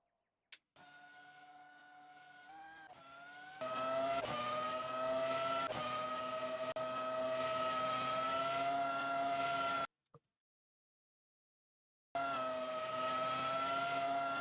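A race car engine in the rFactor 2 sim revs high and holds at a steady, loud, buzzing whine, climbing in pitch with each gear, then cuts out abruptly, goes silent, and starts again at full revs.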